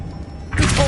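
Lumos spell cast in the Hogwarts Legacy video game: a brief bright shimmering whoosh that swells in halfway through, loud and close, over a low rumbling game background.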